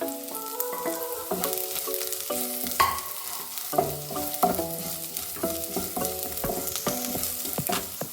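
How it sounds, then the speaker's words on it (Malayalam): Curry leaves hit hot oil with fried garlic and green chili in a pan, crackling and sizzling steadily up close while a spoon scrapes and stirs, alone without talk. "വെളുത്തുള്ളിയും പച്ചമുളകൊക്കെ നന്നായി മൂത്ത് വന്നിട്ടുണ്ട് ഇനി നമുക്ക് അതിലേക്ക് കറിവേപ്പില ഇട്ട് കൊടുക്കാം"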